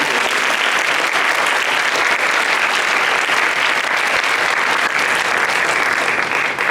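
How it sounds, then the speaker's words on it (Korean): Sustained applause from a large crowd at a church youth retreat opening service, steady and dense clapping throughout with no pauses. "우리 다 환영하는 의미에서 박수 한번"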